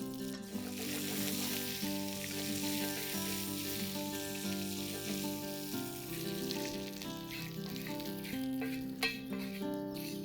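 Sliced garlic and whole dried red chilies fry in hot desi ghee in a pan, giving a continuous soft sizzle with faint crackles, steady and unbroken throughout, with no talking.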